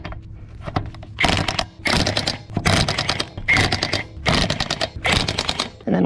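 An impact wrench drives wheel lug nuts tight in a star pattern during a home tire rotation, loud close rattling bursts repeating in quick succession with brief pauses between them, no talk.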